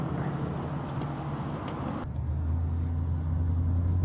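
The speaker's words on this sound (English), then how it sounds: "This is Saturday traffic on the I-5 heading around Seattle." Steady Saturday road traffic on the I-5 around Seattle, a continuous car and engine roar heard from inside a moving vehicle, with tyre and wind noise that shifts to a lower, heavier hum partway through.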